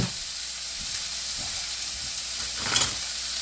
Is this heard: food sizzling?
yes